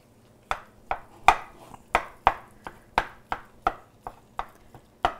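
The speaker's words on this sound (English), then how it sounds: "Dice it up as fine as you can, being careful not to cut your fingers" A kitchen knife dices food finely on a cutting board in a home kitchen, about a dozen sharp, crisp chops in an irregular but steady rhythm, close and clear with no talking.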